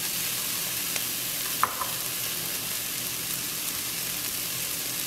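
Egg fried rice with scrambled egg sizzles and is stirred in a hot pan, a steady bright frying hiss with a single sharp clack of a utensil partway through.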